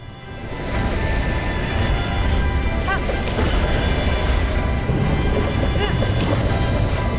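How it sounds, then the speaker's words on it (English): A horse gallops with rapid, continuous hoofbeats while being ridden in the Breath of the Wild final battle, mixed with loud clashing combat effects and an occasional whinny throughout. "It's hard to ride this horse while we're also trying to"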